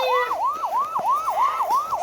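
Wailing emergency siren, likely a police car, sweeping up and down in quick repeated cycles, loud and close with no voices over it.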